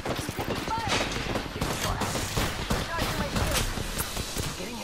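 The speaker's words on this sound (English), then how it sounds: "We just gotta keep shooting them." Dense gunfire in a ranked team shooter video game, rapid overlapping shots and bursts filling the mix loudly throughout, with people talking over it.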